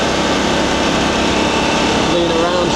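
A VOGE DSX 900 motorcycle with a quick shifter, ridden on the road through a gear change, gives a loud, steady engine drone mixed with rushing wind. Its tone shifts briefly near the end.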